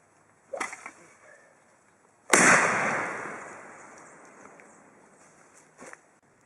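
One loud, close blast from a pipe shotgun firing a 3 1/2 inch Magnum shell with an obstructed bore, its boom trailing off into a long decaying echo, with small knocks and handling noise before and after.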